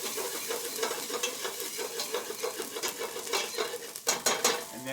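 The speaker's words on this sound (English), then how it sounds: "Stir that around, let that saute." Red Fresno chilies and ginger sauté in a pan for a khao soi noodle bowl, a close, steady sizzle with repeated scraping stirs and light clinks of a utensil against the pan.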